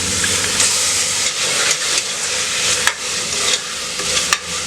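About 100 grams of minced mutton sautés in a pan with mint and coriander, giving a steady close sizzle and hiss broken by repeated scrapes and stirs of a spatula.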